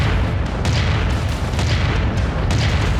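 Mech weapons firing in the MechWarrior 5: Mercenaries video game, a dense, continuous barrage of booming blasts with sharp bursts at intervals over a heavy low rumble, loud and close throughout.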